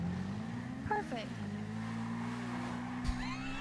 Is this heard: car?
yes